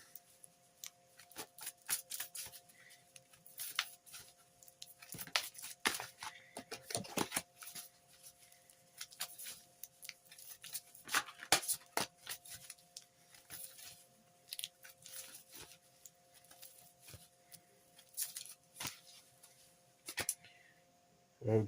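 Oracle cards being shuffled for a daily draw: a long run of quick, crisp papery riffles and taps, close and fairly quiet, with a steady low hum underneath and no talking.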